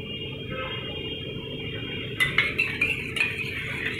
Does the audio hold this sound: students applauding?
no